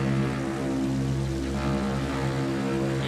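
Propeller drone of an attack plane engine in the World War I shooter Battlefield 1, a steady loud hum with strong low harmonics sustained throughout, alone without talk.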